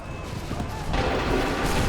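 A musket volley in Assassin's Creed III bursts out partway through as a loud, dense crash of gunfire, then rolls on as a sustained rumble.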